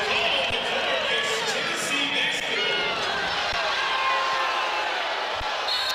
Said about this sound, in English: The crowd is upset because the official initially pointed in favor of Tennessee